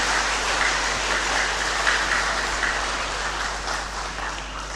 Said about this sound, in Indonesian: Mari kita tepuk tangan untuk pelindung paroki kita.